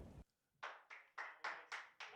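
Hand clapping from a small group at a CS:GO esports match, Evil Geniuses vs Team Liquid at IEM Katowice: six distinct claps after a brief burst of noise, each sharp and close, spaced at a steady rhythm with no talk.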